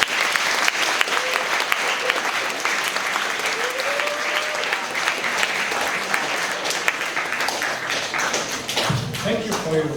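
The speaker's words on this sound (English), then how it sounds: "So let's give him a round of applause." A crowd in a school setting gives a speaker a loud, dense round of applause, with crisp overlapping claps throughout and a few thuds and a voice near the end.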